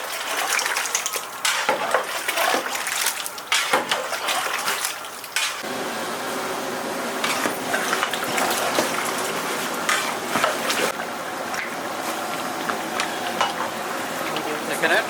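Bangladeshi chicken roast is stirred in a cooking pot that is already bubbling, with close scraping and a frying sizzle. Voices talk over the cooking throughout.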